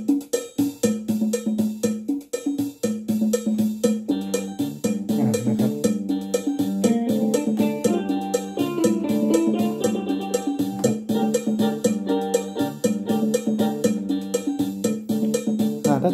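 A Yamaha PSR-E363 keyboard plays a mor lam rhythm style with a guitar voice, a bright, busy, repeating pattern driven by steady cowbell-like percussion throughout.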